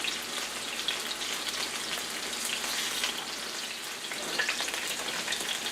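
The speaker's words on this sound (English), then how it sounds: "once they're done browning, I'll do the other 4" Pork chops sizzle steadily in a hot pan on medium-high heat, a dense continuous frying hiss with faint crackles throughout, close and fairly loud, with no talking.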